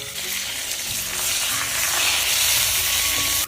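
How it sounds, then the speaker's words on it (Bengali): Small fish paturi wrapped in young bottle gourd leaves fries in a pan, a loud, continuous sizzle and hiss that swells slightly midway, then cuts off at the end. "এখন আমি একবার উল্টাই দেবো, আর একবার উল্টাবো। আস্তে আস্তে জাল দিয়ে ডাইকে ডাইকে করতে হবে"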